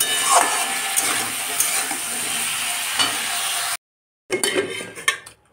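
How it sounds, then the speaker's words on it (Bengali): Bori fried and stirred in a pan for a vegetarian vegetable curry, with continuous sizzling, utensil scraping and clinks against the pan, broken by a brief silence before the stirring resumes. "এটা ভালো করে ফ্রাই করে নেব।"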